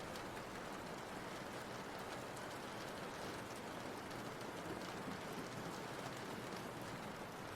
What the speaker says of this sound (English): I've just been using rain sound on window with thunder sounds.